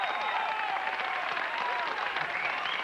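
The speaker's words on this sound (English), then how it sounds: "please give a warm round of applause for Mr. Luke Skywalker." A studio audience at a talk show bursts into applause, a dense, steady wash of clapping that fills the whole moment at even loudness, close and continuous with no voices standing out.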